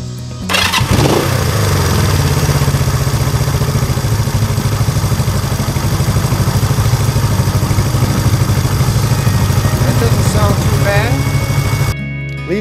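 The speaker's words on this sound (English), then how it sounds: "Let's fire it up and see how well it idles." Motorcycle engine with a freshly repaired, soldered gas tank starts up loud and close, then settles into a steady, slightly clattering idle that runs on until it cuts off near the end.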